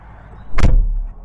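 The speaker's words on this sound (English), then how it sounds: "Not much of a door thunk." A car door closes with a single loud, close thud that lacks a solid, heavy thunk, heard alone against quiet surroundings.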